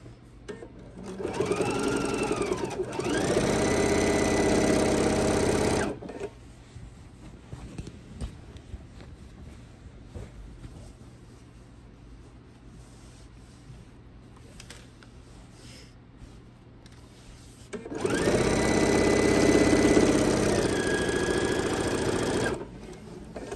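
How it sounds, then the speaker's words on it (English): A sewing machine stitches binding onto a fabric quilt in two sustained runs of steady motor whir, loud and near, separated by a long quieter stretch of low handling noise. "if you don't want to see me sew all the way down"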